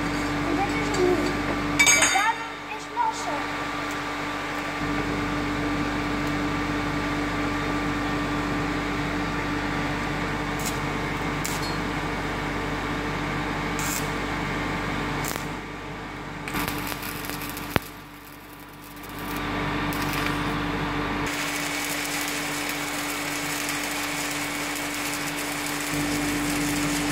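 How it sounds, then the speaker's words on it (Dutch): Stick electrode arc welding on a steel corner joint, a steady crackling buzz with a constant hum that runs almost the whole time, broken by a brief dip near the middle. "Nu gaan we deze kant lassen."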